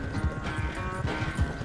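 Rhythmic hoofbeats of a horse clip-clop at a steady trot in the Red Dead Redemption video game, with about four low thudding strikes over a droning game music bed.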